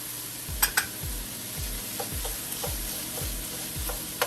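Tomato paste is stirred into a sizzling pot for red beans and rice, with a spoon scraping in regular strokes about every half second over a steady background sizzle and a couple of sharper clinks.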